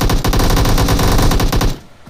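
Loud, rapid automatic gunfire in the shooter game PUBG Mobile, a dense burst of shots lasting well over a second before cutting off abruptly.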